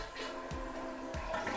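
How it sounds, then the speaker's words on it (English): A toilet flushes as the tank empties during a flapper repair, a close, steady rush of draining water with soft gurgles and no talking. "you want to flush the toilet to empty the water out of the tank"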